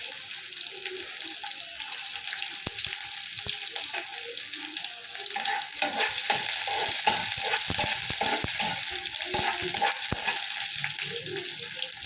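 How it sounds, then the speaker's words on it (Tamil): Small onions frying in a pan alongside curry leaves, giving a steady close sizzle broken by scrapes and clinks of stirring, with no voices. "நல்ல வெங்காயம் நிறம் மாறி வருது"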